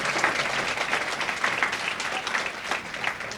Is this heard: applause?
yes